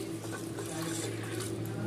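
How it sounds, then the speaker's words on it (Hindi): Glass of water poured into a pot of chana dal lentils, a steady close splashing rush of liquid, short and unbroken, with no talk. "अब इसमें ये हम ये एक गिलास पानी डालेंगे"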